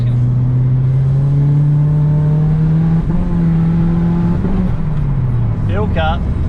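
A Mitsubishi Lancer Evo with a 4G93 SOHC turbo engine revs loudly and climbs steadily in pitch, then abruptly drops off as it hits fuel cut, with a brief voice near the end.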